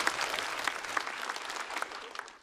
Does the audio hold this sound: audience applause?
yes